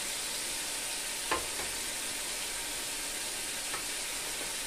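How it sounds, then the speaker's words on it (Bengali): Spice paste frying and sizzling in a pan while being stirred, a steady close hiss with a couple of brief scraping stirs and no voices. "তো মশলাটাকে আমি আর একটু কষিয়ে নিব।"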